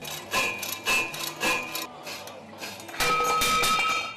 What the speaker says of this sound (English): Cutting the pipe to size, we put the pipe in the power hacksaw blade.